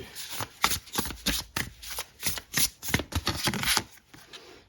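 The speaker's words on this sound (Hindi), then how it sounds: "कुछ कार्ड्स और लेने पड़ेंगे" A tarot deck being shuffled by hand nearby, a steady run of crisp riffling and slapping card bursts, fairly loud, with no voices over it.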